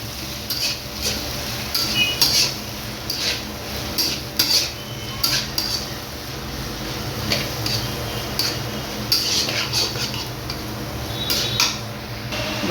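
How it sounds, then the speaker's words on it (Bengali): Chopped onions being stirred in a pan, a utensil scraping and clinking against the metal in irregular bursts over a faint background hiss, with no talking. "এখানে আমরা দিয়ে দেবো আমাদের কেটে রাখা পেঁয়াজগুলো দিয়ে এখানে নাড়াচাড়া করে নেব"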